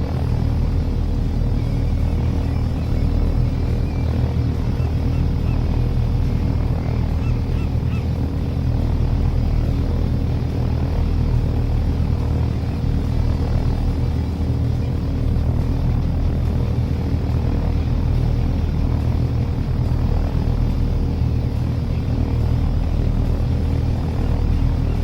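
A helicopter in a flight simulator game hums steadily for the whole stretch, a constant low rotor and engine drone with no break or change in loudness.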